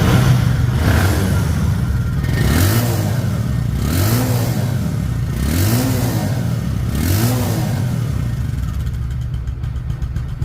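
A Bajaj Discover 125cc motorcycle engine revs in repeated rising surges over a steady idle, close and loud, with no talking.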